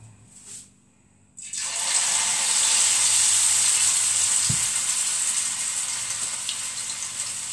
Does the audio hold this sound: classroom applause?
no